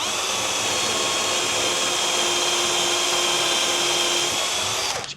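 A power drill bores a pilot hole into brittle reclaimed oak timber, giving a loud, steady whine that holds for about five seconds before cutting off.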